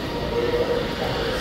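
A steady, loud rumble of a subway train in Kuala Lumpur at night fills the space, a continuous low roar with a faint whine above it.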